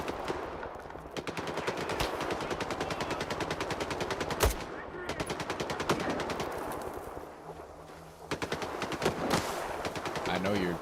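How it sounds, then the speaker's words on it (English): Rapid bursts of enemy gunfire and automatic weapon fire crackle through a tense firefight against bandits in S.T.A.L.K.E.R. 2, loud and nearly continuous, with shots and impacts layered over one another. "I know you're shooting at me"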